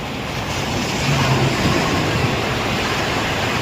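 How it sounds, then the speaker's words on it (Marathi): Steady, broad roar of rough sea surf crashing continuously at Chivla Beach, Malvan, with a constant wash of wind-blown noise and no voices. "त्या लाटा बघा कशा दिसतात. एकदम खवळलेला समुद्र असं आहेच तो आता."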